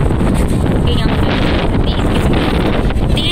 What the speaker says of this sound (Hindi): तेज हवा है,